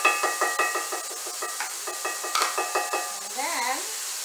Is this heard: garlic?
yes